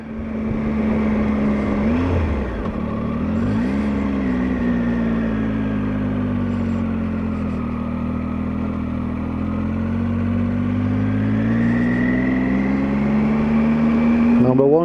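Motorcycle climbing the steep Bealach Na Ba (Applecross Pass) in first gear, rear brake dragged on tight hairpins; a steady, loud engine note rising and falling in pitch throughout, with wind noise over it.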